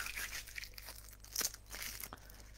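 Low-tack tape peeled off a crafting surface, giving a soft close tearing and crinkling sound in a few brief strips, quiet and without speech.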